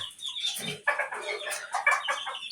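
Chickens cluck nearby on a poultry farm, a busy overlapping run of short clucks and calls with no talking.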